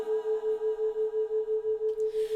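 A steady, pure tone with a slow, even 11 Hz binaural beat pulsing wobble runs under faint a cappella harmonic humming, close and soft, with a brief airy rustle near the end.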